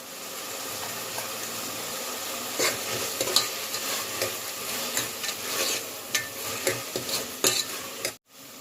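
Tomato and garlic sauté in a pan for a white pumpkin kootu, giving a steady close sizzle with repeated stirring scrapes and utensil taps that end abruptly.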